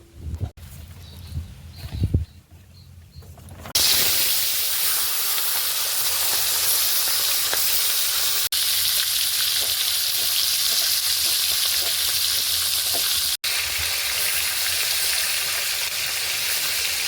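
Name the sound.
fish frying in oil in a wok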